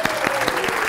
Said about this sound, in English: Applause for Samantha.